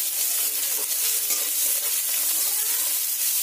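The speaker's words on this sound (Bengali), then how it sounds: "পেঁয়াজগুলো ভালো করে লাল লাল করে ভেজে নেব।" Chopped onions fry in hot oil with a bay leaf, cinnamon and a small cardamom for an egg and potato curry, giving a steady, close, dense sizzle with light crackles throughout and no talking.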